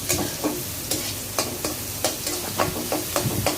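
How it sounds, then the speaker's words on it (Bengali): Three onions stirred and fried in a little oil in a kadai, loud close sizzling broken by repeated scraping strokes of a spatula about twice a second. "ভালো করে লাড়াচাড়া দেওয়ার পরে আমি এখন পেঁয়াজটা একটু ভাজা দিয়ে নিব।"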